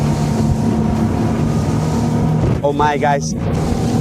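A ZAR 79 SL boat powered by a Suzuki DF 300 outboard running at speed on open water off Genoa, a steady loud engine drone with wind and hull noise, and someone briefly speaking over it.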